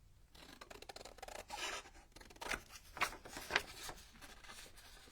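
Scissors snip slowly through paper while fussy cutting pieces for a junk journal, a series of soft, irregular crisp cuts and rustles up close, the snips growing a little sharper toward the end, with no talking.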